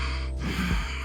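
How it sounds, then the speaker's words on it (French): A single deep inhale during a yoga stretching session, a short breathy rush of air drawn in close to the microphone. "On inspire"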